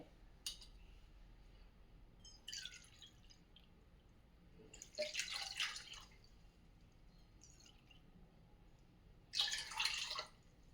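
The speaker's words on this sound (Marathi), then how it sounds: "ह्याच्यामध्ये मी दोन ते अडीच वाट्या पाणी घालणार आहे" Water splashing into curd inside a chopper while buttermilk is made, heard as three short bursts of pouring and splashing, close and fairly quiet, separated by near silence.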